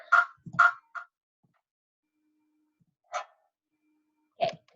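A dog barks at the mailman indoors in short bursts: two quick barks and a smaller yip together, then a single bark after a pause and one more near the end, moderately loud and close.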